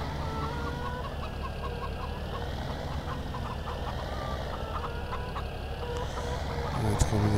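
Chickens cluck steadily in a Farming Simulator 17 farmyard near a water tank, a dense, continuous fowl chatter with a rooster-like call rising near the end.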